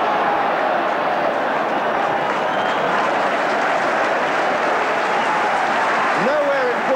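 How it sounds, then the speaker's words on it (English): Football crowd at Upton Park during a West Ham United versus Crystal Palace match, applauding in a loud, steady roar of clapping and cheering, with a commentator's voice over it. "Nowhere in football will you get a more appreciative crowd than at Upton Park."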